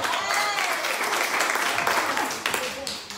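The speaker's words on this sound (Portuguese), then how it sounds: "Salve de palmas!" Audience applause at a women's night event in S. Luís, a dense, fairly loud round of clapping with voices faintly mixed in underneath.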